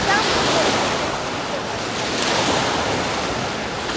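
Sea waves wash steadily onto a Black Sea shore near Blagoveshchenskaya in a continuous loud surf roar, with wind buffeting the microphone throughout.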